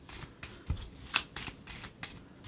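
Tarot cards are handled and shuffled in a series of short, crisp rustling and flicking bursts in an irregular rhythm, close and fairly quiet, with no talking.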